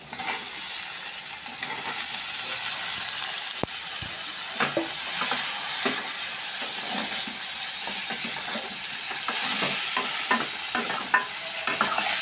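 Paneer frying lightly in oil over medium flame while a spoon stirs it, soft continuous sizzling broken by scraping and occasional clinks, no voices.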